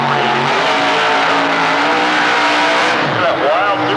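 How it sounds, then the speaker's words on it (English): A supercharged, alcohol-burning 526-cubic-inch big block Chevy Coupe drag car at Atlanta Dragway gives a loud, close engine roar with rising revs, then a brief tire squeal and skid near the end. "Chevy Coupe coming out of Midland, Virginia with a supercharged alcohol burning big block power plant, 526 cubic inches of Chevy power"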